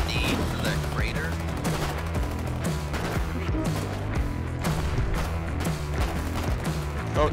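Gunfire in the war game Foxhole crackles in dense, rapid bursts of overlapping shots, some near and sharp, others duller, continuing without a break.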